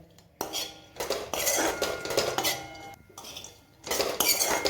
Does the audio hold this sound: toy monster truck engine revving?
no